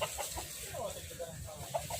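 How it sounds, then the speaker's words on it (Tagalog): Caged chickens and gamecocks on a rural province property cluck in short, scattered bursts at a moderate distance, heard over outdoor background noise with some voices nearby. "may mga nakakulong pang manok."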